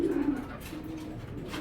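Cream bar racer pigeon cooing in a steady low, soft murmur that runs through the whole moment, close by, with no talking.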